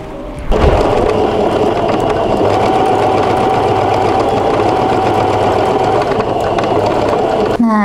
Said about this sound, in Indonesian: kita jahit menjadi satu bagian pinggirnya ya teman-teman